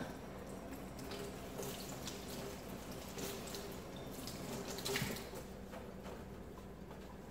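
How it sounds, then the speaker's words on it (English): Hands being washed under a running kitchen tap, a steady close stream of water with splashing and small irregular taps as hands move through it. "Let me wash my hands and then I'll get to the cabbage."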